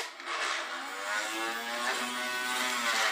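A plain household vacuum cleaner runs steadily and close by, a continuous buzzing motor drone with a harmonic whine that holds level for the whole stretch, with no talk over it.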